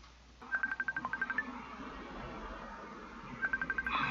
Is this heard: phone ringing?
yes